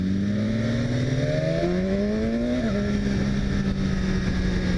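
A 2017 BMW S1000RR motorcycle accelerating, its engine note climbing steadily through a gear before a shift drops the pitch, loud and close with wind noise.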